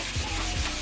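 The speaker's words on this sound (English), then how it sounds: "Cutting and sanding wood." Wood being sanded during a short bus door remodel, a brief steady rubbing scrape with two faint low thumps, heard alone and fairly quiet.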